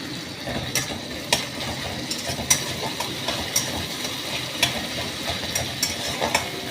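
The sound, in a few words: tomatoes frying in a pan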